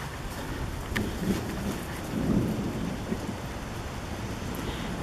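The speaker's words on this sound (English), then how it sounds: "it's starting to rain" Steady rain falling during a fast-moving summer afternoon thunderstorm, heard from under a carport as a dense hiss of drops with low rumbling underneath, no voices.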